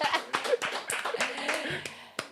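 A few scattered hand claps and taps during an interview chat, uneven and close, mixed with brief voices and laughter rather than a full round of applause.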